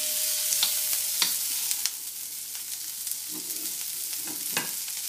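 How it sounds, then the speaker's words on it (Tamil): Ingredients sauté in oil in a pan for tomato sambar, giving a steady close sizzle broken by repeated short scraping strokes of a stirring spoon. "ஜஸ்ட் இந்த பச்சை வாசனை போகிற அளவுக்கு நம்ம வந்து அதை வதக்கிடணும்"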